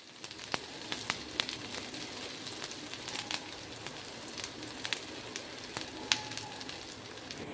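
Chopped onion frying in hot mustard oil, a steady crackling sizzle with scattered sharp pops throughout, close and even, no voices.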